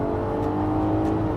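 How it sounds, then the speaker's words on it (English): The engine of a 2024 Acura MDX Platinum Elite, run in sport mode, holds a steady, loud rev, a low dense hum with a whirring edge heard from inside the cabin, with no talking. "So I can pop it over into sport mode and I can rip it."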